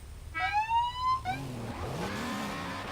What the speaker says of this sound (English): Can I get a honk?